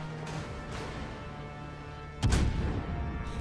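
Naval guns from a Des Moines cruiser firing in World of Warships: one heavy booming salvo hits suddenly near the end over a steady background of game ambience and engine hum, after fainter thuds earlier.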